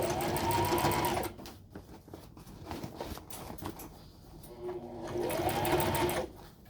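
Sewing machine stitching a heavy tote bag, a rapid close mechanical chatter in two bursts separated by a quieter pause with handling noise.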